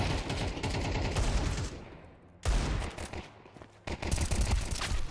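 Bursts of rapid automatic gunfire in Counter-Strike 2, loud and close, with two brief lulls between volleys and no talking.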